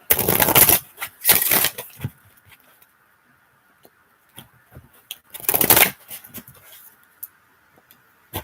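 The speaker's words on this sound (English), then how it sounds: "I'm going to shuffle" Oracle cards are shuffled in several quick riffling bursts, with quiet pauses and a few soft taps between them, close by.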